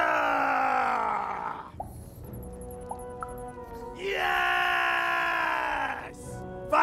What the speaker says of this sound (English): Can you scream hard enough to make strangers die?